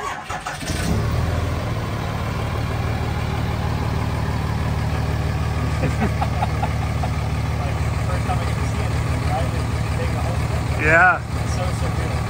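Diesel engine of a car hauler RV bus conversion idling with a choppy, lopey rumble, steady and close throughout, with a brief voice near the end.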